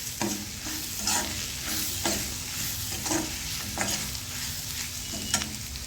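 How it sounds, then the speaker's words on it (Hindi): Potato and coarsely crushed whole spices are stirred together in a hot pan for onion kachori filling, sizzling steadily with repeated scraping strokes about once a second, close up and without speech. "जो हमने खड़े मसाले को कूट के रखा था उसे भी डाल देते हैं और इन सबको हम मिला लेते हैं"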